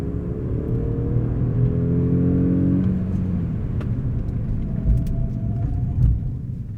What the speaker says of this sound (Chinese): 我好像觉得自己在驾一个 AMG C43这样子，那个引擎声浪啦